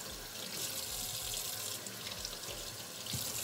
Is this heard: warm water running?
yes